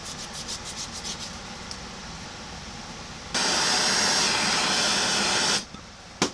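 Sanding the nib of a homemade stitching awl: a loud, steady broadband abrasive hiss runs for about two seconds, preceded by quieter rubbing and light taps, then drops away with a short knock at the end.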